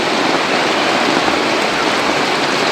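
Heavy pouring rain falling beside an outdoor home grilling spot, a dense, steady hiss that stays loud and even throughout with no voices.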